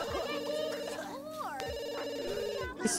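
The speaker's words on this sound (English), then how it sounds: "Curtis, go answer the phone" A phone rings inside a Sims 2 game, a bright repeating electronic trill that runs through the whole stretch, layered over game music and other in-game sound effects.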